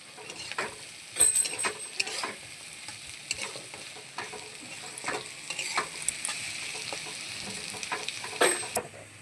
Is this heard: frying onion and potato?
yes